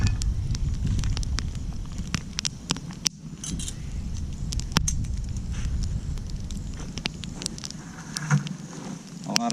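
An outdoor campfire burning as bacon cooks over it, with continuous low rumbling flames punctuated by sharp crackles and pops at irregular intervals, fairly close.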